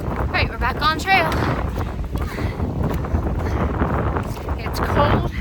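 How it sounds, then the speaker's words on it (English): Gusty, cold wind buffets the microphone on the Appalachian Trail, a steady low roar, while a person talks over it. "It's cold and it's windy."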